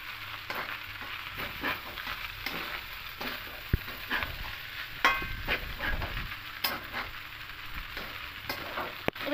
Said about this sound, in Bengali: দিয়ে সবগুলো খুব ভালো করে মিশিয়ে নেব।